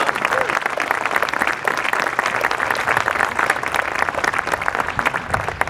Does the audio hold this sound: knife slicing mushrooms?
no